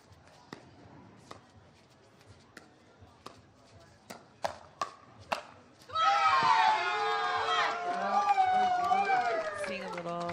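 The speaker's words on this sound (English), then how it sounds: "Big cheer after that play." At a professional pickleball match, sharp paddle hits and footsteps give way to a loud, sustained crowd cheer with whoops and screams that fills the rest of the scene, as a commentator talks.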